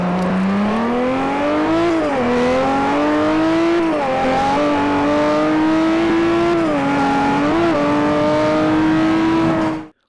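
A fully upgraded car in the racing game Forza Horizon revs its engine loudly and steadily for about ten seconds, the note dipping and climbing through a few throttle blips before cutting off.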